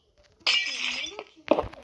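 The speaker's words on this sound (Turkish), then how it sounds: "Hayır cam kırıyor." Glass shatters in a Minecraft city build: a sharp breaking burst with clinking shards, then a second smash a moment later, loud and close with no talk over it.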